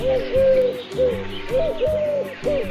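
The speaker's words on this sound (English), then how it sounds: "A pigeon is flying over the house" Pigeon cooing up close, a series of soft rounded hooting calls in short repeated phrases with brief pauses between them, loud and clear with nothing else underneath.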